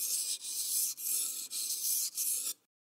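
A knife drawn in long, even strokes across a sharpening stone, four steady gritty rasps separated by brief pauses, close and fairly loud, then silence.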